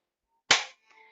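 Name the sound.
hand clapping for a counting game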